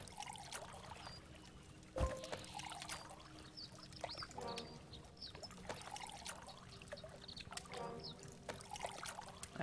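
Water pouring in the video game Home Behind, a soft trickling and splashing stream running beneath quiet game ambience, with a sharp knock early on.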